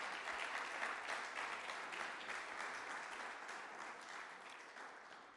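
A church congregation applauds with sustained, dense clapping that fills the room and slowly tapers toward the end, with no voices rising above it.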